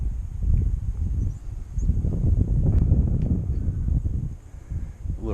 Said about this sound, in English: A little wind, but not bad.